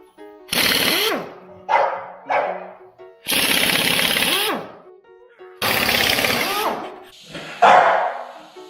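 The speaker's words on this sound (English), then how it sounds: "Got the impact here. It's a 3/4 inch bolt or 3/4 inch socket here on the" An impact wrench fitted with a 3/4 inch socket removing a bolt, loud close hammering bursts of about a second each, five in all with short pauses between, the last one shorter.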